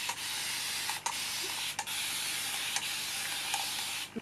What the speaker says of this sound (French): là j'utilise mon spray de ma marque Excessive